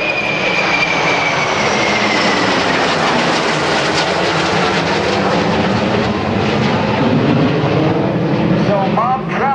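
Super Hornet and Hornet fighter jets refueling in flight at the NAS Oceana airshow, a loud continuous jet engine roar with a narrator talking over it throughout.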